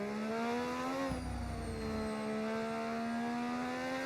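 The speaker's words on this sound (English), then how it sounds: "The engines are amazing as well. I love the sound of these engines." A race car engine in the F1 25 video game, running a retro 1986-season mod, holds a steady high-pitched whine with a brief shift near the one-second mark. It sounds loud and continuous, with no talk over it.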